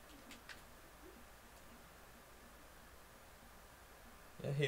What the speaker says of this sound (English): Was there always pigeons and always birds just hanging around in the map?